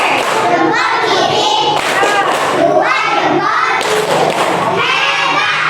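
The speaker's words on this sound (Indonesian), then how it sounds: "tepuk jempol dulu ya, tepuk jempol" A classroom group does thumb clapping, giving repeated thumps and claps in bursts, with people talking and calling out over the rhythm.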